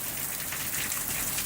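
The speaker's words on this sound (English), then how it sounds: "This is what a summer shower looks like here in" Summer rain shower falling in a wooded backyard in southern Ontario, Canada, a dense, steady hiss of rain on leaves and ground, close and unbroken, with no talking.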